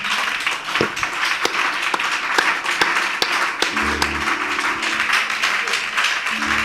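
A church congregation at an evening service claps in a steady, fairly close rhythm, individual hand claps standing out against the crowd, with a low sustained organ-like tone entering partway through.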